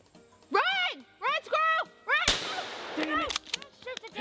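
Gunshot fired at a squirrel during a hunt, a single loud sharp crack cutting in between voices, with talking and exclamations before and after it.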